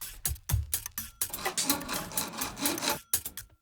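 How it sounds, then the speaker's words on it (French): Hacksaw cutting a worktop junction profile to fit a kitchen countertop: short raspy back-and-forth strokes, close and fairly loud, with brief pauses between bursts and no talk. "Recoupez le profilé de jonction à la scie à métaux pour l'accorder à la largeur exacte de votre plan de travail."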